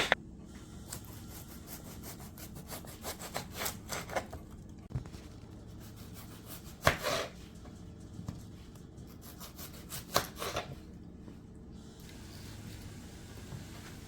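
Knife cutting green tomatoes into quarter-inch slices on a board for canning, a steady series of soft crisp strokes and rubs with a few sharper chops, close and fairly quiet with no talk.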